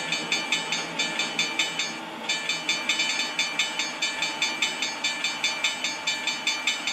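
A tram passes a railroad grade crossing in the Trainz video game, with a fast, regular ringing or clacking pulse over continuous rolling rail noise that stays loud throughout.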